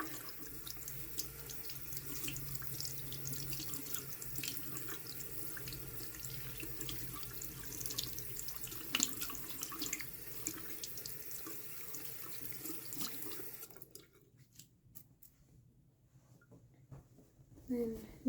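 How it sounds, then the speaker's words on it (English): Warm tap water runs steadily into a sink as hands are rinsed, a continuous broadband splashing that stops abruptly near the end, leaving near quiet with a small clatter. "I'm just gonna rinse it off with warm water."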